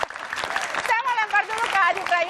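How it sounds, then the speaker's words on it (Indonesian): Studio audience on an Indonesian political talk show claps briefly, light patter of hands running beneath cheering voices and talk throughout. "tepuk tangan dulu dong"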